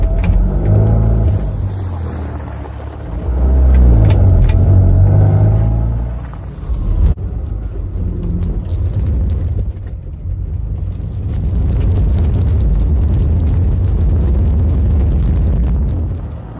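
A small Fiat 126 car drives along country roads, its little engine rumbling up close with revs rising and falling, a brief lull as it shifts, then a steady drone at speed.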